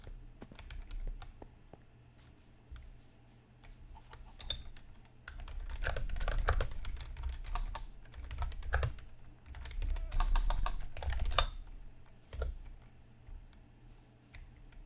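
Steady rapid clicking of a computer keyboard during a Minecraft Bedrock gaming session, with bursts of fast typing and brief pauses, close and moderately loud.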